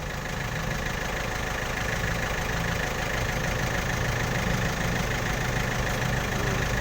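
A tractor engine idles close by in the heat of a Thai field, giving a steady low chugging rumble with a faint knocking texture that runs evenly and alone, with no talk.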